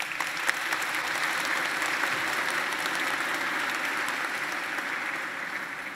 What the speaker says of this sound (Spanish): nosotros le vamos a dar un aplauso de bienvenida a esos niñitos